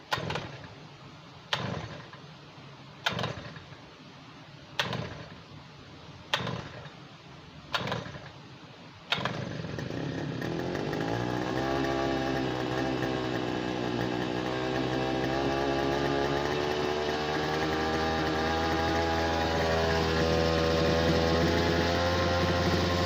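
A small petrol hedge trimmer engine, rated 112 dB, is pull-started in several sharp tugs, then catches and runs continuously with a loud, buzzing, steady drone.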